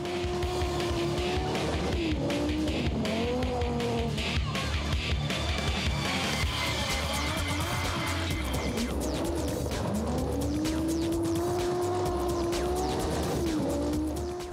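Audi Quattro S1 rally car from the mid-1980s accelerating hard on a rally stage, loud engine revs climbing and dropping repeatedly through gear changes, close and continuous throughout.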